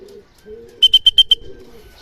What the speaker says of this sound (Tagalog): Ito na yung ibon natin, entry natin sa BF.